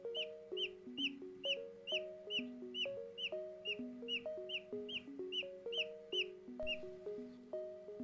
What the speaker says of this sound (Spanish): Ahí está piando, se puede apreciar cómo pía en el interior del huevo